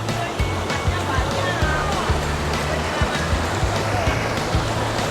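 Clear river water rushing over a small mini waterfall at Krueng Kaleung, Lamno, Aceh Jaya, a loud, continuous close roar with steady splashing and no break throughout.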